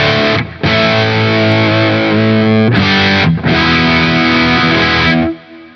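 Loud, crunchy overdriven electric guitar through a Fender Machete tube amp playing sustained chords, with two brief gaps and a fading final chord.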